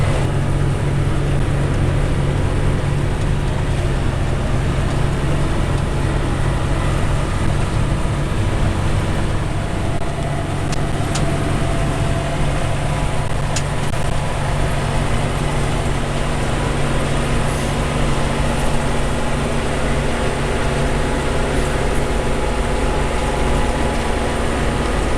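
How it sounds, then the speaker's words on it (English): A 100-horsepower John Deere tractor pulling a New Holland 1431 14-foot discbine through a hay field, a steady loud engine drone with whirring cutter noise holding constant throughout, close up with no talking. "I can cut it about 6 to 7 miles an hour with this disc vine and my 100-horse John Deere tractor."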